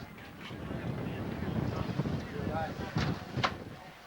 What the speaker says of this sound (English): It's a bit windy out there